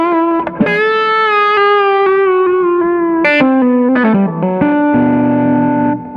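Electric guitar played through an EP Booster overdrive pedal, a warm, driven tone with sustained single notes and bends, then a held chord ringing out, loud and alone.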